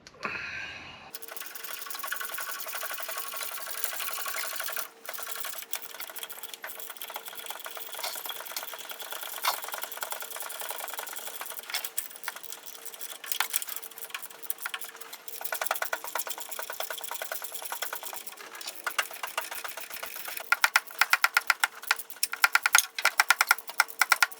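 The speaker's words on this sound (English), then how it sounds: "All I gotta do is tighten the bolts up." Bolts on a Chevelle engine are run down over freshly fitted gaskets, a rapid mechanical ticking and whirring like a power driver or ratchet, close and continuous with sharper clicks toward the end.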